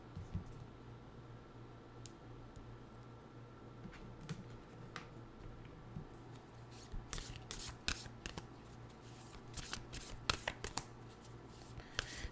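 Nature's Whispers tarot cards are shuffled close by. The crisp riffles and flicks are fairly quiet, sparse at first and then denser toward the end, with no voices over them.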